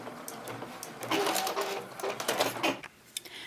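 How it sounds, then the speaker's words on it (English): A sewing machine sews a back stitch on a patchwork journal cover, a close, brisk mechanical hum with rapid needle clatter in short bursts, briefly pausing and restarting, with no talking. "now we're going to do a back stitch here."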